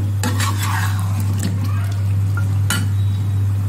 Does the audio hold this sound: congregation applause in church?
no